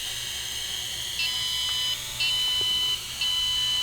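A Q333-A quadcopter drone emits three high, thin beeps at about one-second intervals, each lasting roughly a second, over a steady background hiss.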